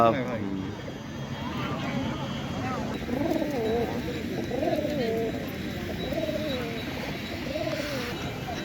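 Pigeons coo repeatedly over a busy background murmur at the Taherpur pigeon market, with people talking nearby and a low drone throughout.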